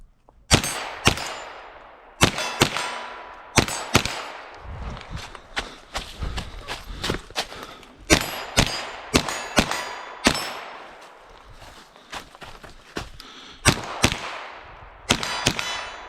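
Rapid, loud shots from a Ruger Charger pistol fitted with an SBA4 brace, fired in uneven bursts and single cracks with short pauses between, each report sharp and close with ringing decay.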